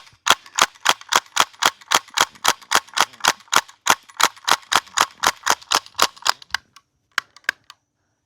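VFC PPSh gas blowback airsoft submachine gun firing a fast full-auto burst of sharp, loud, evenly spaced cracks with bolt clatter, ending in a few scattered single shots, close up with no talk.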